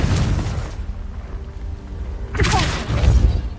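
Confringo spell blast in Hogwarts Legacy: a booming burst opens, then a quieter lull, then a second loud, crackling explosion with deep thuds near the end.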